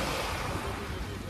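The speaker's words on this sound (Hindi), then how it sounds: "पानी की लहरें बहुत खतरनाक है भैया," Steady rushing surf of sea waves, broadband and continuous, with a windy roar throughout and no clear breaks.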